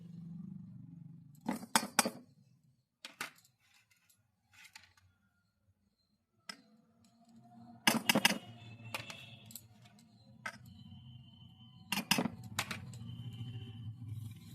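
Sifted flour being stirred into orange cake batter in a mixing bowl, heard as irregular bursts of clinking and scraping utensil strokes against the bowl, separated by quiet gaps over a low background hum.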